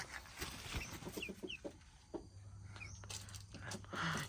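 Bantam chickens cluck intermittently at moderate distance, short scattered calls over a low background hum and faint rustling.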